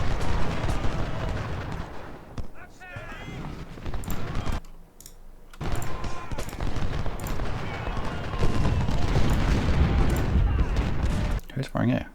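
Musket volleys and artillery fire from the Ultimate General: Civil War strategy game, set at Saunders Farm, crackle and thump in bursts, with a short quiet gap partway through, while someone talks over much of it.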